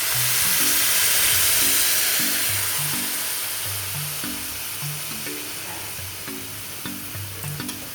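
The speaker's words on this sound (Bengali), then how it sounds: "আমি এবার সামান্য পরিমাণে একটু জল দিয়ে দিলাম।" Cauliflower and potato frying in a pan after a little water goes in, a loud, steady hiss of sizzling steam that slowly eases, with faint stirring and light clinks near the end, close up.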